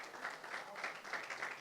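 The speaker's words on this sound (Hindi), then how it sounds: "इनके लिए बड़ी तालियां होनी चाहिए." Faint, steady applause ripples through an award ceremony for a cricket pitch curator, a soft distant patter of many hands clapping without pause.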